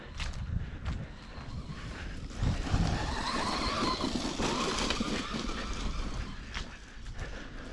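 A Traxxas Rustler 4x4 brushless RC car with a 15-tooth pinion drives over rutted ground, a steady buzzing motor whine with crunching, gravelly rumble throughout, at moderate distance.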